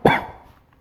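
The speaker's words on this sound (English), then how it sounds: "Excuse me, corona cough." A single short, sharp cough from one person, abrupt and close, quickly fading to quiet.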